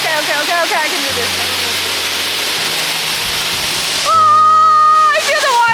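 At Brown Mountain Dam waterfall on a hike near Los Angeles, water roars in a steady, dense rush, while people shout and cheer excitedly over it close by.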